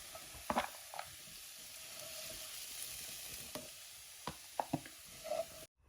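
Spices tempering in hot oil for Bengali home cooking, a continuous close sizzle and fry hiss with a few sharp clinks and taps of a utensil on the pan, ending abruptly.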